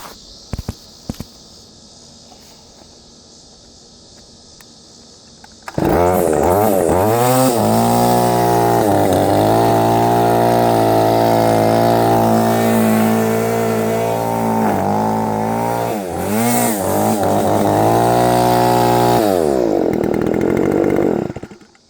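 After some quiet handling noises, the small two-stroke engine of a Stihl FS45 string trimmer starts and runs loudly and steadily, its revs dipping and rising a few times before cutting off.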